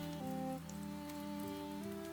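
Steady rain patters outside an old Irish café on an evening, a continuous soft wash with faint sustained musical tones running beneath it.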